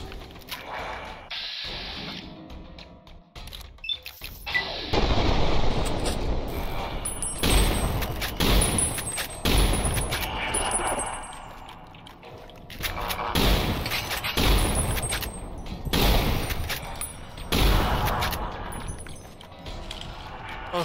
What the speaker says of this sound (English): Gonna have to go with the hollow rifle.